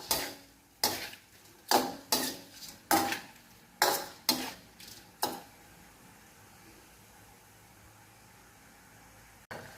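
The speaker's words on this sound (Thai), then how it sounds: "เราคั่วกุ้งนะ หรือว่าผัด ผัดนะคะกับน้ำปรุงนะคะ" Fresh shrimp are stir-fried with seasoning sauce in a pan for pad kuay teow, with about eight rhythmic, close spatula scrapes and knocks over roughly five seconds, then quiet.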